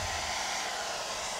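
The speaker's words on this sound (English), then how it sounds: "We're probably gonna like burn the hairdryer out, have to get a new one." A hair dryer blows air onto melting crayons on a pumpkin, a continuous loud rushing whir that stays level throughout.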